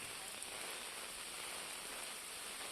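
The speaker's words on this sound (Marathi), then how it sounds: "मुंबई, ठाणे, पुणे पट्ट्यामध्ये मोठ्या प्रमाणात पाऊस पडतोय" Heavy monsoon rain pours steadily across Mumbai, a dense, continuous hiss of drops on surfaces with no breaks, loud and close, with no voices.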